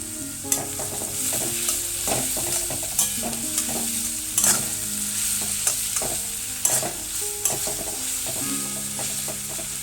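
Onions frying in a pan for chicken curry, a steady sizzle punctuated by repeated scraping and clinking of a spatula stirring, close and fairly loud, no voices.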